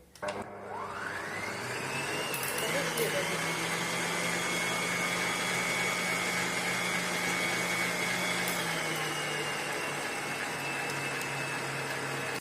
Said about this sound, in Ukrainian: Так, включаю міксер і взбиваю до пени.